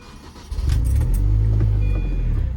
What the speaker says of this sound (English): I'll start it up and just let you hear the exhaust in this video